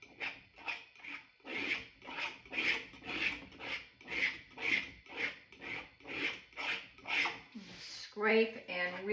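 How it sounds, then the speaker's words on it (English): A palette knife scrapes oil paint across a canvas in a steady rhythm of repeated rasping strokes, close and fairly soft, and a voice begins speaking at the very end. "Scrape the paint and redeliver."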